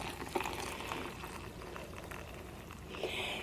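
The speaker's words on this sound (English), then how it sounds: "I'm going to go ahead and pour my boiling water." Boiling water poured into a tea steeper to fill about 16 ounces, a steady close liquid pour and trickle running throughout with small splashy bursts, no talking.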